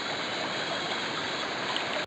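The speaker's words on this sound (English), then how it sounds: "Here we are at the river." Steady rushing flow of a river in a rainforest, a dense continuous wash of water close by that holds evenly for about two seconds before cutting off abruptly at the end.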